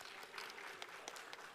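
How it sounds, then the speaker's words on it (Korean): Applause from an audience at a startup pitch competition greets the last team of the first round, a steady, fairly faint wash of clapping across the whole stretch. "큰 박수와 함께 발표 들어보도록 하겠습니다"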